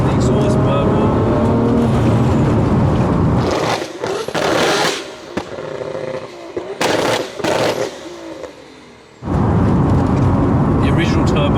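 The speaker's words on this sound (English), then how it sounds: "you hear a bit more turbo spool up without boost, which is pretty good. Obviously the exhaust burble." A Nissan Skyline R34 GTR drives past loud and close, its engine roaring with turbo spool and crackling exhaust burble, broken by sharp bursts and brief lulls before the roar returns.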